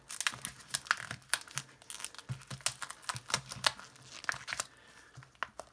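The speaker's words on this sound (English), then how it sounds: "I'm just gonna tear it." Packaging of a 1976 Fiji sterling silver proof coin set is torn open by hand, producing a close run of sharp crinkling and ripping bursts in an uneven rhythm, with no talking.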